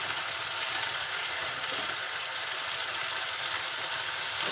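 Powdered spices (salt, turmeric) sizzling in hot oil while bitter gourd cooks with taki fish, a dense, steady crackling fry that stays close and even for several seconds with no talking.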